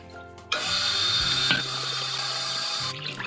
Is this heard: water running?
yes